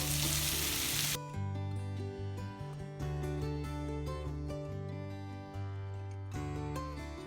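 Chicken pieces hit hot oil in a pan, cutting off a loud hiss before a steady sizzle sets in, broken by scraping and stirring clinks.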